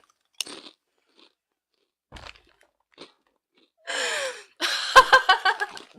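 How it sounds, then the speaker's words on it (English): Crunchy chips are chewed near the mic in an ASMR recording, with a few soft isolated bites followed by a loud burst of rapid crunching and breathy noises, with no talking. "chewing these chips up is refreshing because I'm kind of hungry"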